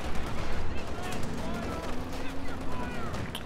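A flak panzer in Company of Heroes 2 pours out rapid automatic cannon fire, a dense, steady crackle of shots laid under a continuous commentary voice.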